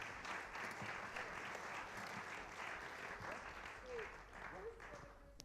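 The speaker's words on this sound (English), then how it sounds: "give a round of applause to all our contestants" A room claps for a group of contestants at an event premiere, a continuous, fairly faint patter of many hands that lasts the whole stretch, with a few voices briefly surfacing near the end.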